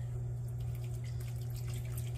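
Water trickles and drips into a measuring container for bread dough, a soft continuous liquid sound over a low steady hum, close and without talk.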